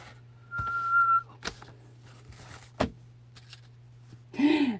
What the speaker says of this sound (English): when I do that, when I whistle like that